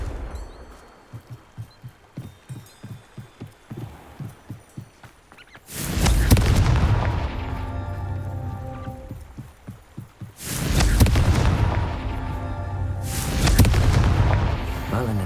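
Confringo fire spell blasts in the Hogwarts Legacy video game: two heavy, loud booming explosions with long rumbling decay, preceded by a rapid series of faint crackling pops.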